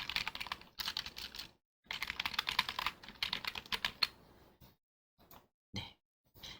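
Someone types on a computer keyboard in bursts of fast, close key clicks, separated by short pauses, with a few isolated taps at the end and no talking.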